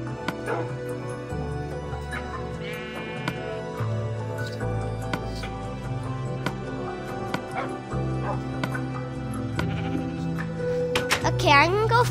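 Tamed dogs in Minecraft bark repeatedly in quick, close yips and woofs, some whimpering, layered over game sounds and people talking.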